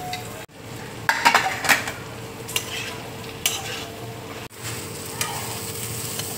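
Banana stem and potato frying in ghee as a spatula stirs and scrapes, with clinks and knocks of utensil on pan over a constant sizzle, two abrupt drops in sound, and no speech.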